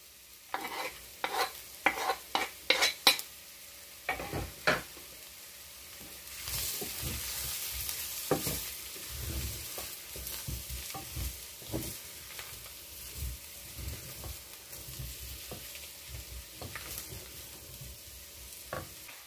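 Chopped onion frying in a hot pan with coriander, a steady sizzle that swells after a few sharp clatters of a utensil against the pan, then keeps going under repeated stirring scrapes, close up and without speech.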